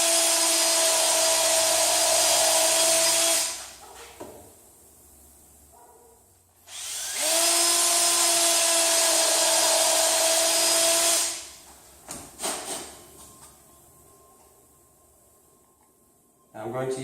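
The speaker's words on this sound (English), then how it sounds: "I'm going to kind of hold it together with the clamp and put a couple screws through the bottom." A power drill drives long 4-inch deck screws up through the bottom into a clamped log, two sustained loud bursts of whirring a few seconds each, separated by quieter handling noises and brief clunks.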